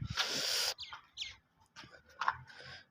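Pigeons at close range on a rooftop, with an opening rush of flapping wings followed by several short calls and chirps spaced apart, and no speech.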